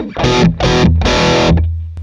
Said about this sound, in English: everyone kind of knows what a DS1 sounds like. That's at the distortion at like nominal